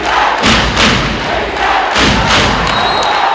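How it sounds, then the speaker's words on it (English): Basketball arena crowd at an ABL playoff game swells into loud, sustained cheering and roaring, with dull thumps on the court and surges of noise rising and falling across the stadium. "the crowd is back into this game"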